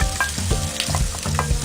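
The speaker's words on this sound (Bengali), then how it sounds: "জিরার গোটাগুলো যখন একটু চিটপিট করে উঠবে তখন আমি রসুন কুচি দিব।" Cumin seeds and chopped garlic sizzle loudly in a hot frying pan, a steady close crackle and hiss with small pops throughout, with no voices.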